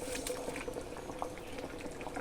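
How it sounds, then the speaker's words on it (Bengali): Curry broth for a taro-stem and tengra fish dish boils in a pot, a steady close bubbling and popping that runs unbroken for about two seconds with no voices. "আমার ঝোল কিন্তু ফুটে উঠেছে"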